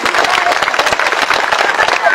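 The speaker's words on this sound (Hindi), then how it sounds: "जोरदार ताली बजा के स्वागत करिए" Loud, dense applause from a crowd at a political rally welcoming a legislator, a continuous roar of clapping throughout the brief moment.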